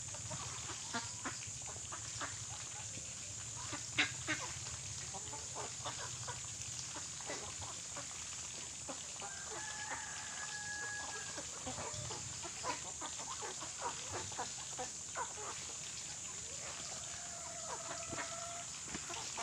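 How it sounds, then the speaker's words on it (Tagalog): Ducks at feeding time on a farm, with a steady background of soft clucking and quacking at moderate distance, scattered pecking and dabbling noises, and a few brief louder calls. "sarap talaga mag-alaga ng ganitong ano, bibi or itik"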